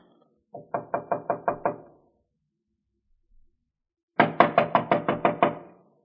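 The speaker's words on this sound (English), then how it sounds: "Wait, I'll knock." Knuckles rap on a door in two clear bursts of rapid knocks, five or six quick blows each, close and crisp, separated by a few seconds of silence.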